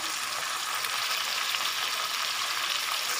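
Crab pieces fry in hot oil for a Tamil-style crab curry, giving a steady, close, even sizzle and crackle with no talking.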